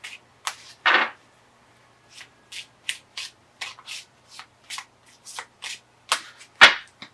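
Tarot cards being shuffled and drawn by hand, a quick series of crisp, close riffles and slaps in an uneven rhythm with brief pauses between them.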